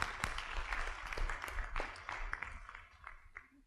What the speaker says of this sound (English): Big round of applause for Brian Pash, everyone.